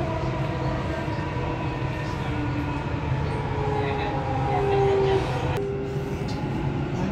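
A Dubai Metro train rolls along with a constant loud rumble and faint tonal whines, a steady interior ride sound with a brief bump near the end.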